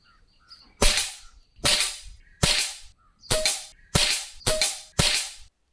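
Seven sharp PCP air rifle shots spaced about a second apart, each a crisp crack with a short decaying tail, comparing the suppressed GARE Karbin with the unsuppressed Precihole, close and loud with no talk.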